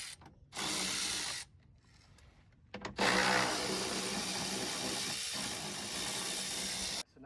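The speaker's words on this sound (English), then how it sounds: "we're going to start taking off the bumper and the skid plate bolts right now" Ratchet clicking in bursts while loosening the bumper and skid plate bolts on an Infiniti G35 during a single-turbo build, close and loud, with a pause between two long runs of rapid ratcheting.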